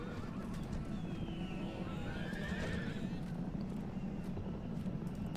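Parthian horse archers' horses in the strategy game Europa Barbarorum whinny above a dense, constant rumble of battle ambience, a single rising neigh standing out midway, with no talk.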